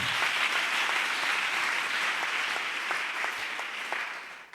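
Congregation applauding steadily throughout a church worship service, a dense continuous wash of many hands clapping at close range, with no talking over it.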